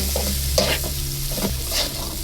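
Noodles are dropped into a hot pan and stirred, giving steady frying sizzle with scraping stir strokes and a few louder clatters near the start and end, close and continuous.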